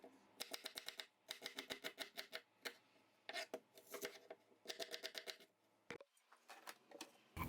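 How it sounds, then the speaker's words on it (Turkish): Knife chopping three dry onions for an okra stew, rapid bursts of sharp close taps on a cutting board in quick rhythmic runs with brief pauses between, no voice. "Tarifimiz için 3 adet kuru soğanı yemeklik olacak şekilde doğruyorum."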